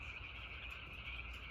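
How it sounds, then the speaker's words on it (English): Frogs croak in a steady, dense chorus out in the countryside, a continuous trilling texture filling the whole stretch with no talk over it. "That's frogs."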